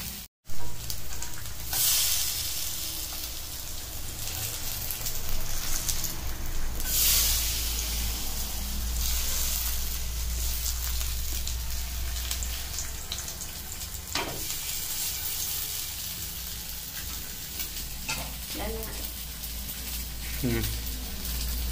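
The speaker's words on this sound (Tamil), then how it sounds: "தோசைக்கல் மீன் வறுவல்." Pomfret fish frying on a dosa tawa, a continuous close sizzle and hiss with scattered crackles and a few scraping knocks, and a voice speaking now and then over it.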